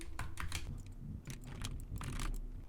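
Typing on a computer keyboard, with quick bursts of clicky keystrokes in an irregular rhythm and short pauses between runs, close up and alone.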